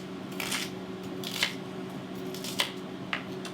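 A kitchen knife chops a quarter of a small onion into little pieces on a cutting board, producing a few soft, irregular cuts close up over a low steady hum.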